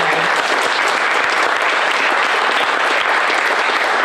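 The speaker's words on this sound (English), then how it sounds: "So let's give an applause to Dixie for what she did for us so many yea" Loud, dense applause from a press conference audience, steady clapping filling the whole few seconds without pause.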